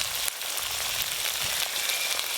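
Sour yogurt hitting hot, fried cumin and coriander spice paste in oil for a Bengali chitol fish curry, a loud, continuous hissing sizzle close up.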